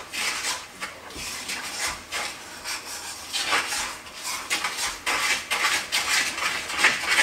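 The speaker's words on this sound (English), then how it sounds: "And I'm stirring that all up" A spoon stirs and scrapes through a crack grapes candy mixture in a pot, a steady rasping, rubbing sound with repeated scraping strokes, close and fairly loud, with no talking.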